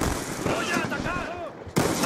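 Rapid gunfire from the video game Black Ops 2, a dense burst of loud shots with scattered game effects, then a sharp louder blast near the end.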